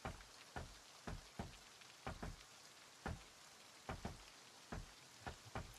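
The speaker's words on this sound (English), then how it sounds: "Thank goodness there's the rain." Rain falling in the Project Zomboid survival game, a soft continuous patter with scattered sharper drops landing on a surface, quiet and alone without any voices.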